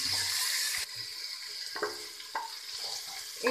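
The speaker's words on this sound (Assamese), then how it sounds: "এইখিনি মই এইদৰে ভাজি আছোঁ" Sheem seeds fry with spices in a pan, a steady close sizzle that softens after the first second, broken by several brief stirring scrapes, with no voices.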